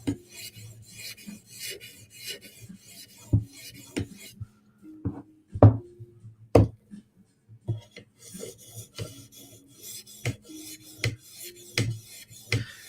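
Steel K390 Delica blade is drawn across stones on a Hapstone RS sharpener in short, repeated rasping strokes, with occasional sharper clicks and gaps between passes, close and fairly quiet.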